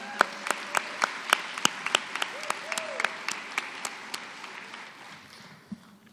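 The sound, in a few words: audience applause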